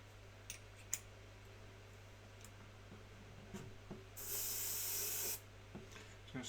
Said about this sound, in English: Just going to spray this over the areas that we want purple.